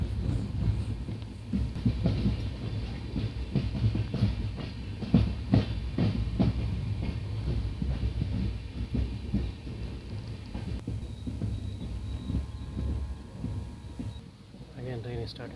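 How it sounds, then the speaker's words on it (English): A passenger train, No. 16231 on the Mayiladuthurai–Bangalore route, pulls away from a station and rolls along the rails with steady rumbling and irregular wheel clacks, growing continuous and fairly close. "Again train is started."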